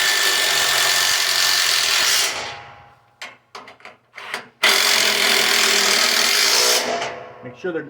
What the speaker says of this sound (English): Get our 1/2-inch wrench, and I'm going to use a 1/2-inch impact.